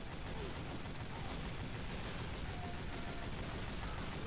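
Dense, continuous gunfire from many players at once in Team Fortress 2 during a Halloween boss fight, a constant crackling barrage of shots blended with game noise at moderate loudness.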